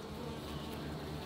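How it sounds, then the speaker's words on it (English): Honey bees swarm around a frame lifted from a hive, a dense continuous buzzing hum that stays steady and close throughout. "Let me get some of these bees out of the way."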